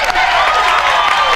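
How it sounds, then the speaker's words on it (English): A live audience breaks into loud, sustained applause and cheering. A crowd noise of claps and voices fills the whole brief moment at close range. "All right, let's applaud that."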